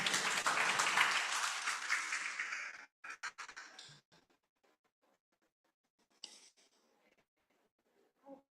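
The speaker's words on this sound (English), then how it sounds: "Ramirez a warm round of applause." Conference audience applauding Dr. Ramirez before a welcome address at an international conference on education, environment and agriculture; a full round of clapping for about three seconds, then scattered claps fading into near silence.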